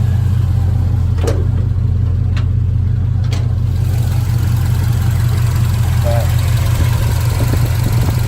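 A square-body truck engine fitted with Holley Sniper EFI idles steadily, a constant low rumble running slightly rich throughout, with a few faint clicks and knocks on top.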